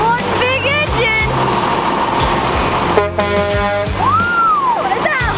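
Big dump truck with its heavy diesel engine rumbling at idle, loud and close, with repeated horn blasts, including a long sustained honk midway and a rising and falling toot near the end.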